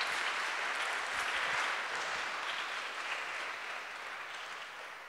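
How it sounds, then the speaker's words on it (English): Steady applause from an event audience fills the room for the whole stretch, dense and even, easing slightly toward the end with no voices over it. "I also want to ask you to do a small applause to them"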